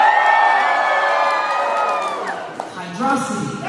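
A large crowd of fans at Sonic Expo in Atlanta cheers and whoops loudly, with excited shouting voices that build, dip, then swell again.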